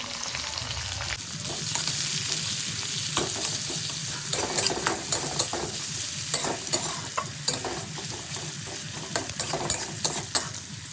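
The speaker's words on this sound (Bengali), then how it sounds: "দিলাম সর্ষের তেল শুকনো লঙ্কা দিয়ে দিলাম একটা রসুন কুচি পেঁয়াজ কুচি" Dried chili, chopped garlic and chopped onion fry in mustard oil with a steady close sizzle, punctuated throughout by sharp scrapes and clinks of a spatula stirring the pan.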